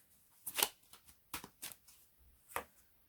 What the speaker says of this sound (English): Let's put 2 cards out.